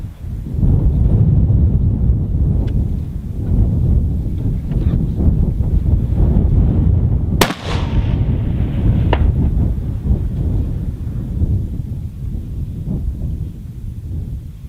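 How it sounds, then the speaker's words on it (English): Wind at an outdoor rifle range buffets the microphone in a loud, steady rumbling roar, with a sharp crack partway through. "That wind kind of pretty much ended what we were doing out there."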